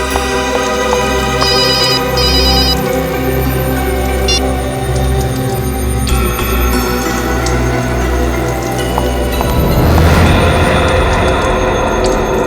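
A telephone rings loudly and steadily in a tense indoor scene from a Hindi crime drama, its repeated electronic tones sitting over a dense, sustained background with no talk.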